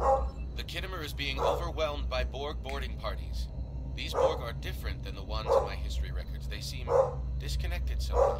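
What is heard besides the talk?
dog barking in the background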